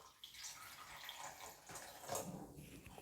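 Half a cup of water is poured over tamarind pulp to soak it for Sri Lankan drumstick curry, a faint, brief trickling and splashing of liquid heard close by and alone.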